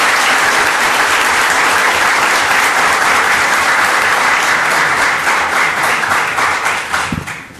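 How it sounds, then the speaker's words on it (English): Loud, dense applause from a school district meeting audience in Redlands honoring outstanding spring athletes, sustained and even before tapering off at the end. "And just one final round of applause for outstanding spring athletes."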